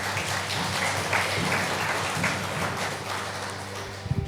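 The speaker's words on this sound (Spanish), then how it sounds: "Regálale otro fuerte aplauso a Cristo" Church congregation applauding during a Spanish-language service, a steady wash of many hands clapping at moderate loudness, with a low hum beneath and a few thumps at the end.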